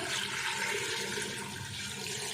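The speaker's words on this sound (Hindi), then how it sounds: "और पानी डालेंगे हम 2 से 3 लीटर" Two to three liters of water poured into a cooking pot holding beef trotters and a halved onion, a steady broadband rushing splash filling the whole moment, close and fairly loud with no talking.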